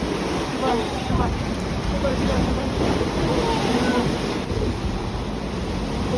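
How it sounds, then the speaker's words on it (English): Violent sloshing of a rooftop swimming pool in Bangkok during an earthquake, heard as a steady, loud broadband wash of churning water with gusty wind-like rumble throughout. "elevated swimming pools immediately turned into violent waves"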